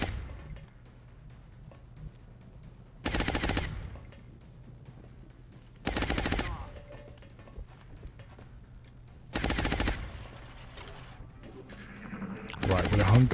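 Gunfire in the XCOM: Long War alien base assault, heard as four sharp loud bursts spaced a few seconds apart, each a broad crack-like blast standing well above a quiet low hum in between, with one more burst at the very end.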